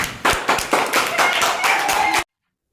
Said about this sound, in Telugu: claps her